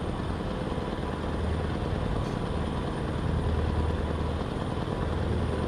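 A helicopter flying past in the American Truck Simulator video game, a steady broadband rotor and engine roar, fairly faint and continuous, with no talk over it.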